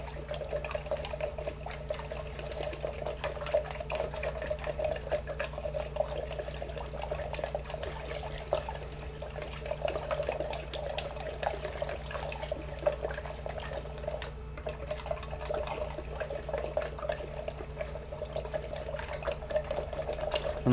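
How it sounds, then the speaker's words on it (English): Chitosan lactate being stirred into water in a jar, a steady, even liquid swirl with faint trickling and dripping that runs continuously at close range, with no talking. "And stir this for a little while and try and get it all dissolved in there."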